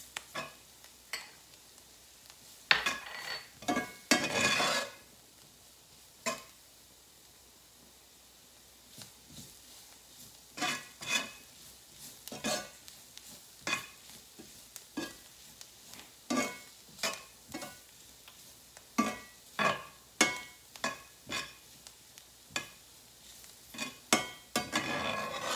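Flour browning in oil in a pan for a roux, with vegetables added, is worked with repeated scraping, stirring strokes over a soft sizzle, irregular and close, with no voices.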